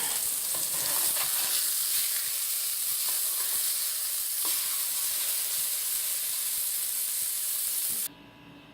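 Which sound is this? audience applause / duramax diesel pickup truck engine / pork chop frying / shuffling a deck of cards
pork chop frying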